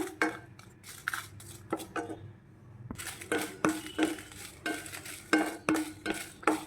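Dry red chillies roast in a pan without oil for a homemade dosa powder, with a utensil scraping and stirring in irregular bursts over a faint crackle, close and fairly quiet.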